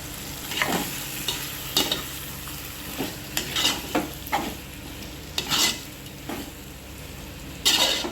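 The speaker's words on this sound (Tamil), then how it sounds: "கோழியை போட்டுக்கலாம், வதக்கிக்கலாம்." Chicken sautés in a pan with yogurt, a continuous close sizzle broken by repeated scraping stirs of a utensil against the pan every second or so, with no voices.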